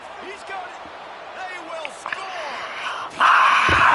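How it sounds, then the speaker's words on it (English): A stadium crowd in a college football video game roars up after scattered game sounds and some talk, swelling into a loud sustained cheer during the final second. "crowd goes crazy"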